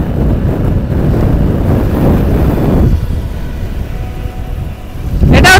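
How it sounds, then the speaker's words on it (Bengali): Strong wind buffets the microphone during a ride on a flyover of the Kalyani Expressway near Shyamnagar, a loud, continuous low roar that eases briefly before gusting back at the end. "দারুণ হাওয়া দিচ্ছে।"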